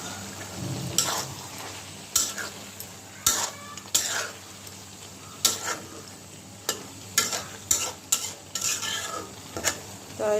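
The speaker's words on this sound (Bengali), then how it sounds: "ওইটা দিয়ে ভালো করে কষিয়ে তারপর নামিয়ে নিব" Koi fish cooked down with bottle gourd in a pan, a repeated scrape and clatter of a spoon stirring against metal over a soft sizzle, the strokes coming in irregular bursts every second or so, with no voices.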